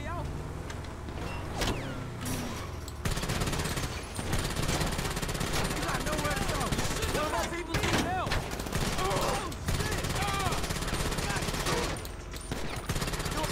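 Gunfire during a farm raid in GTA Online, a busy stretch of repeated shots and bursts layered with vehicle and mechanical noise, fairly quiet in the mix, with people talking throughout.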